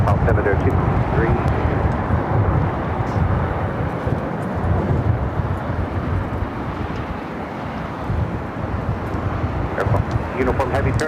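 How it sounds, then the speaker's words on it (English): Spirit Airlines Airbus A320neo rolling down runway 7 left at LAX for takeoff in extreme winds, a steady broadband roar with buffeting wind noise running throughout. "Spirit A320 Neo rolling down 7 left"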